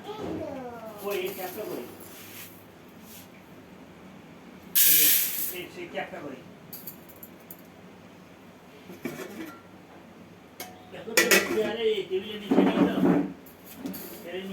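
Uncooked rice is handled in a kitchen pot with soft, hissing rustles of grains, strongest in two brief bursts, while someone talks over much of it.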